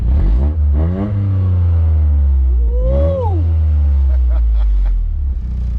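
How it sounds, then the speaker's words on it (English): A 2024 Toyota GR Corolla's three-cylinder engine revs hard and accelerates with a throaty exhaust note rising in pitch, loud and close, as someone cheers briefly over it. "for a 3-cylinder, that is an amazing sounding exhaust"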